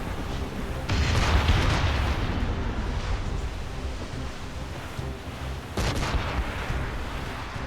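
Naval cannons fire during a ship battle in the video game Assassin's Creed Rogue. Heavy, rumbling booms roll together in a sustained barrage, with two sharper blasts striking near the start and again later.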